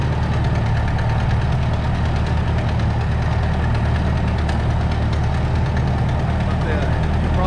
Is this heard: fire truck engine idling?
yes